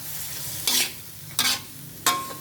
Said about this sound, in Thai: ใส่ดอกขจรนะคะ ลงไปผัดนะคะ